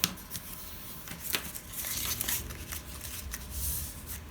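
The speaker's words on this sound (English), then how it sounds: "Now I'm getting them a good crease on the fold lines." A paper craft box being creased along its fold lines with a bone folder, giving soft rubbing, sliding paper sounds with a few sharper crinkly snaps, close and steady with no voices.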